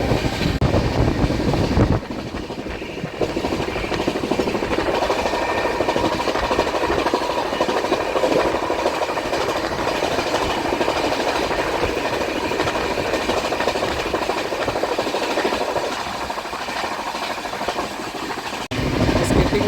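A Lokmanya Tilak Patliputra SF Express passenger train runs at about 130 km/h through a small Indian railway station, heard from inside a 3AC coach as a loud, steady rumble and rush of wheels on track.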